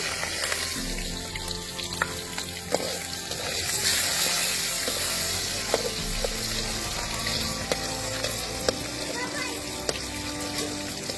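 Rohu fish head frying in oil in a pan, a dense continuous sizzle with intermittent clicks and knocks of utensils against the pan, steady and close throughout.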